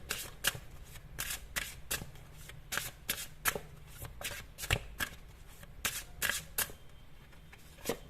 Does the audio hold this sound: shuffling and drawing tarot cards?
yes